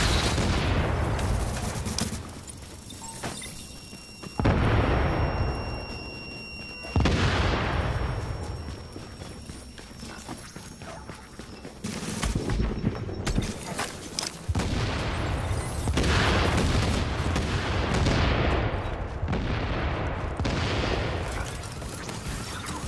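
Rapid bursts of gunfire and booming blasts from a shooter video game fill the scene, loud and close, with fusillades, machine-gun runs and explosions separated by brief gaps.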